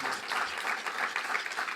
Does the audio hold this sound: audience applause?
yes